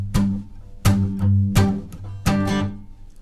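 Acoustic guitar strumming the pattern for a Christmas song with palm muting, in four firm strums spaced about a second apart. Each strum rings briefly and is then damped, played alone and close.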